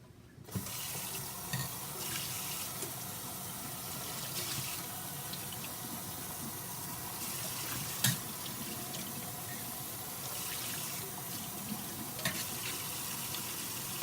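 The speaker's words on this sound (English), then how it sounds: "I'm going to go ahead and rinse it down the drain" Water rinses carbon and GFO reef filter media down a drain, a steady close splashing tap-and-sink rush with a few small knocks, continuous and fairly quiet.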